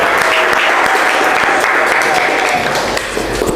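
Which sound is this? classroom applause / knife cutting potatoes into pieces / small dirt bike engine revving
classroom applause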